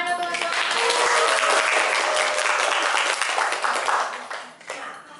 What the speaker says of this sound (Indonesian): Beri tepuk tangan ya teman-teman